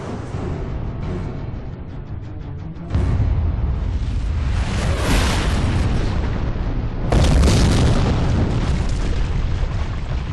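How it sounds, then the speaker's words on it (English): A bomb triggered remotely goes off in the point-and-click adventure game Secret Files 2: Puritas Cordis, a loud booming blast that swells in two surges and rumbles on throughout, with no voices over it. "The bomb! They triggered it remotely!"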